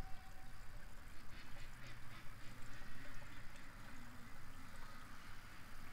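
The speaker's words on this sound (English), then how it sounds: "They're quacking so loud up in the yard" Ducks in a yard quack loudly, their calls overlapping in a dense, noisy chorus that continues throughout the clip.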